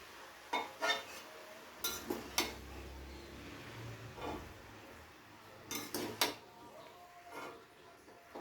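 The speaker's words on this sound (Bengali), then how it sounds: "পালং শাকটা দিয়ে খুব ভালো করে সবজির সাথে মিশিয়ে দেবো একবার" Spinach is stirred into mixed vegetables in a pan for a vegetarian palong shak sabji, giving scattered metallic clinks and scrapes of a utensil against the pan with quiet pauses between.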